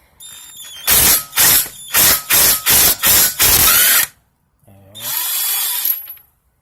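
An impact-style power tool works a car wheel lug nut during a tire rotation, firing in about seven short loud bursts in quick succession, then one longer burst after a brief pause, close up with no talk.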